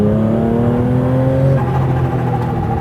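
A supercharged Porsche 911 engine idles steadily at 2,000 rpm, a loud, close, even hum with a faint supercharger whine layered on top.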